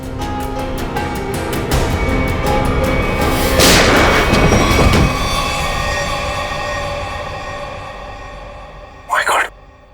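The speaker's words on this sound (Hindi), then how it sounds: "सर, इसने अपने आप को गोली मार दी।" A single sharp gunshot booms in a Hindi police crime drama set in a jungle, cutting through tense background music and dialogue, followed by a brief burst near the end.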